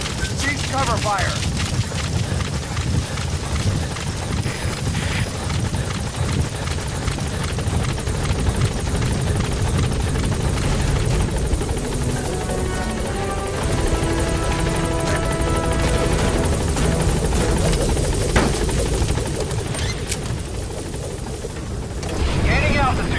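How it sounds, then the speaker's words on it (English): A support helicopter arrives and hovers in Metal Gear Solid V, its rotor throbbing loudly and continuously with a mechanical whine. Faint impacts and radio voices sit underneath. "Support helicopter has arrived."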